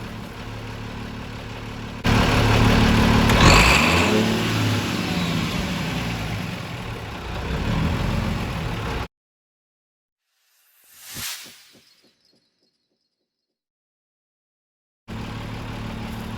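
Cummins L10 diesel in a Ford L9000 truck, loud rough clatter rising sharply as the throttle is snapped wide open, holding several seconds, then abruptly cut off; a single brief thump sounds in the silence before the idle returns.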